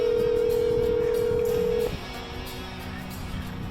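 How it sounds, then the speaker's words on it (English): A phone dials an outgoing call on speakerphone: a steady electronic tone holds for almost two seconds, then cuts off and leaves a quiet line hiss with faint ringing. "Call Abby Morgan on speakerphone. Calling Abby Morgan on speaker"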